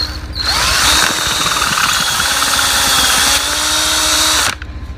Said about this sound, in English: now that we have the holes drilled